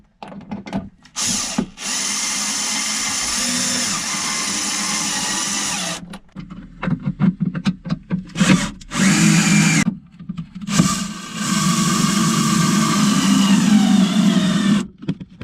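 A power drill drives screws to bolt down a Tuffy security box inside a Toyota Tundra, loud close whirring in long sustained runs broken by short stop-start bursts and brief silences.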